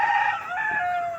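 A rooster crows loudly and close by at a farm crowded with many fighting cocks, one sustained call that wavers through its length with no talk over it.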